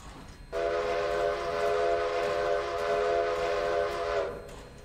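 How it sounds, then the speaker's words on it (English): A locomotive whistle in the Railroader train simulation game blows as the train stops at a station, a single steady tonal blast held for about four seconds, loud and alone without talk. "hard to time those whistles right when you're stopping here"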